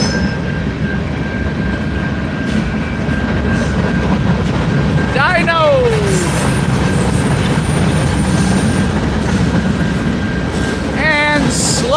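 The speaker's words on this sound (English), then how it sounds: "brings up the end of that train" A train rolls steadily past a railroad crossing, its loud continuous rumble of wagons joined by a sustained crossing-bell tone and brief squealing wheels, close by and filling the scene.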